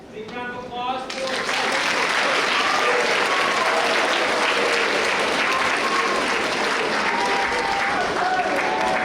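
Sustained audience applause fills a middle school awards ceremony, loud and steady after a brief opening, with faint voices and cheers mixed into the crowd.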